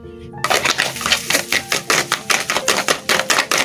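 Rapid rhythmic whisking of sugar into batter for a traditional Indonesian perut ayam cake, a steady run of close, sharp clattering strokes against the bowl, loud and regular after a brief quiet start.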